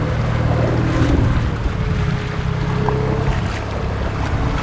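A motorized dinghy rumbles steadily toward a dinghy dock in the Tobago Cays area, with its outboard droning over wind buffeting and water noise from start to finish.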